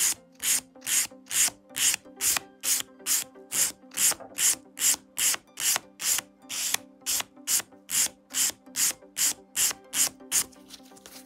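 Nail file rasping across acrygel polygel fingernails in steady back-and-forth strokes, about twenty even scrapes in a regular rhythm, close and clear with no talking.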